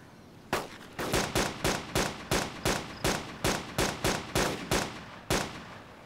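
Gunshots in the Arma 2 DayZ mod ring out in a steady rhythm, about fourteen sharp, loud cracks roughly a third of a second apart, each with a short decay.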